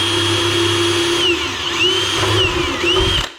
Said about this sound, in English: Run a drill through here.